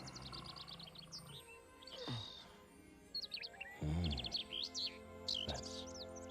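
Bright, quick chirps and tweets from a cartoon bird in an animated film, delivered in rapid bursts with short pauses, alongside some lower background sounds and musical tones.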